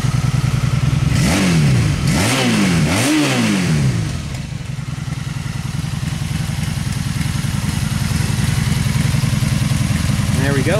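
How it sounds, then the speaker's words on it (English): A 2002 Honda Magna motorcycle engine, partly disassembled, revs three times in quick rising-and-falling bursts, then settles into a steady loud idle up close, with a voice talking over it. "2002 Honda Magna is running. Sounds pretty damn good."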